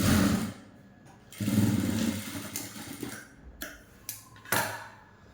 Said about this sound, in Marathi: नंतर आपल्याला इथं शिलाई मारून घ्यायची आहे